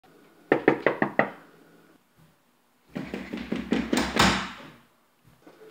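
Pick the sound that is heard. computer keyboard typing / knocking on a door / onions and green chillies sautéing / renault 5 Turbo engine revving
knocking on a door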